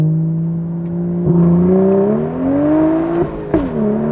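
A Stage 2 BMW 435i running an MHD anti-lag tune pulls hard in first gear. Its engine note climbs steadily in pitch with a brief dip near the middle as it revs up, loud and close, with no talk over it.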